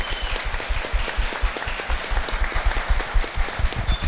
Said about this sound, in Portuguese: queria pedir uma salva de palmas para esses 3 monstros aqui